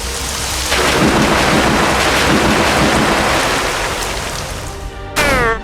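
Loud, sustained rumbling thunderstorm with steady rain and crackling thunder for a Storm Rush attack in the video game Manamon 2, ending in a brief burst of sharper rising game effects.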